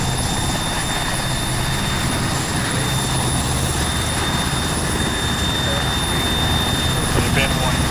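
A helicopter in the Arma 3 video game drones with a steady, dense engine and rotor roar that fills the whole stretch without a break, constant and close.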